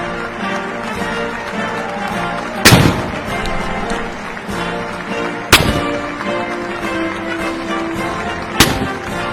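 A cannon salute fires at a US presidential inauguration: three sharp booms land roughly three seconds apart, each a sudden crack with a short echoing tail, over a steady murmur of an outdoor crowd.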